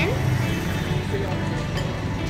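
A steady low rumble of passing vehicles on a busy street outside a restaurant in Karachi fills the background while a person talks over it.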